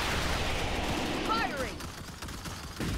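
Troopers fire their guns at bugs in the video game Starship Troopers: Terran Command: a steady, dense wash of rapid gunfire and battle noise runs throughout, with a brief whining sweep partway through.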